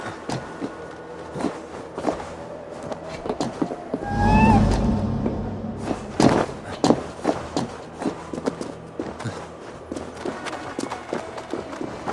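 A small cat meows in Assassin's Creed Valhalla: a short, rising cry that stands out over in-game footsteps and ambient game sound.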